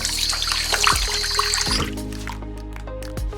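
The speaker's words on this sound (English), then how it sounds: "The purpose of this step is to wash away the raw taste of the meat." Raw pork rinsed under running water for sweet and sour pork, a splashing, trickling stream close by with a few dull knocks and clunks as the meat is handled.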